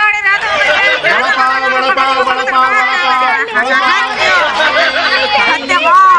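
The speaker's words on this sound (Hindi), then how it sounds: "थोड़ा हटना, बाजू में हटना यार, क्या भीड़ है?" Dense babble of many overlapping voices from a crowd on a busy railway platform, loud and continuous throughout with no single voice standing out.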